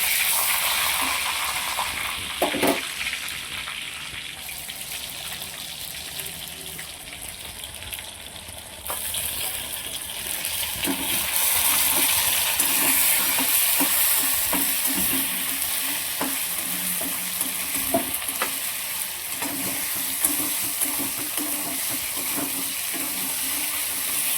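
Ginger and green chili paste frying in a hot pan with bay leaf and dried red chili, making a steady, loud sizzle with scraping stir strokes throughout, growing denser and louder partway through.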